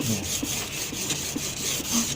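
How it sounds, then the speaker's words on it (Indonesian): Steady, rhythmic rubbing of number 400 sandpaper on silver for a handmade square-link chain necklace, close and continuous with regular back-and-forth strokes. "Pakai amplas ya, yang di pasaran juga bisa, cuman dia harus ada khusus anak yang 400 ya, nomor 400."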